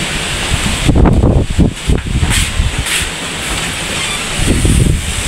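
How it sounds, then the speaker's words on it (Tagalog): Loud, continuous wind buffeting a microphone, with rushing gusts and rumbling bursts throughout. "Kusog kay hangin."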